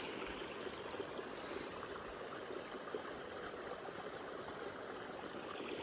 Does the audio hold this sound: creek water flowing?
yes